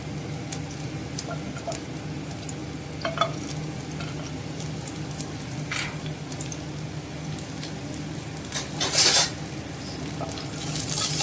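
Garlic cloves and ginger sautéing in a pan for roasted gram chutney, a steady soft sizzle broken by scattered spoon scrapes and one louder clatter near the end, close and with no talking.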